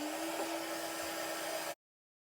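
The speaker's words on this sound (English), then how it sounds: "I'm just going to put the heat tool on again to warm up" An embossing heat gun blows hot air with a steady, even whirring hum for under two seconds, then switches off abruptly into silence.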